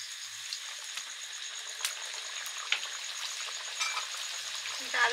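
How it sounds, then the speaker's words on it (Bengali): Dal puris deep frying in hot oil, a faint continuous crackle with scattered small pops, heard alone at low level. "ডাল পুরিগুলো ভেজে নিচ্ছি এবারে।"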